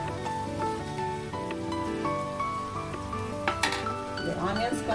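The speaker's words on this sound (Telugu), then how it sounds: "ఆనియన్స్ కొంచెం కలర్ చేంజ్ అయ్యే వరకు ఫ్రై చేసుకుందామండి" Onions fry in a pan for brinjal masala curry, a soft steady sizzle with occasional clinks of a spoon against the pan, under background music.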